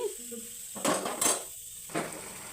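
A metal lid clatters onto a pot of simmering capsicum curry, a few sharp clanks with short gaps between them, close by against a soft background hiss, with no talking.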